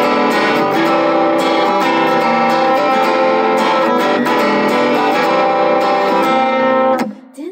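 Enya NEXG SE guitar played in rock mode, loud distorted chords ringing with sustained harmonics and strummed attacks, ending with a brief muted thump and fading tail; no talking.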